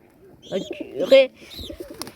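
A pigeon coos in short, soft rounded phrases close by, with a few quieter chirps and rustles around it and no other sound competing.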